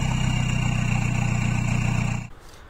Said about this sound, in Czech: To opravdu zní jako traktor.